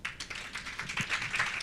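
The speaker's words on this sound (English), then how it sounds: "And together, let's clap for her." An audience at a Nairobi showcase event claps for the Vice Chancellor, a brief patter of moderate applause from a modest crowd.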